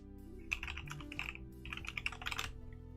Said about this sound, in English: In fact, I'll just type it right here.